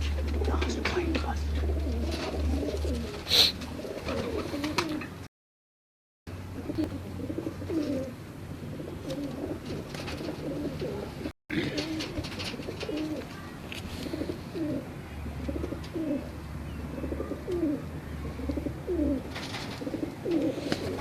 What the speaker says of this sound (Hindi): ये जी वैशी कबूतर है। ये घर का ही है।